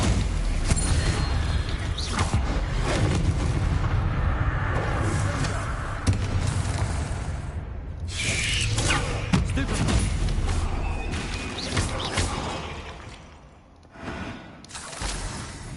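Spell blasts from Bombarda and Incendio in Hogwarts Legacy, dense booming and crackling bursts that fill the scene, loud and continuous with brief lulls.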